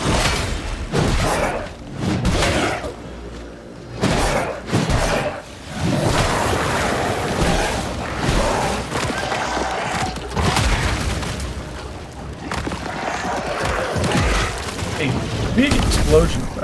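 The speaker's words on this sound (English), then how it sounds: "A big explosion effect." Loud, continuous barrage of booming explosions and gunfire blasts in the video game Mortal Shell 2, one after another with heavy low rumble throughout.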